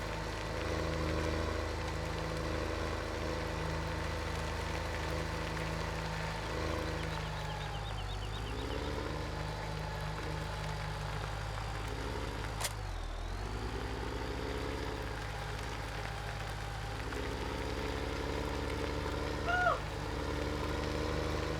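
John Deere 4960 tractor engine in Farming Simulator 17, a steady low idling drone with a few slight shifts in pitch and one sharp click midway, continuous and fairly quiet.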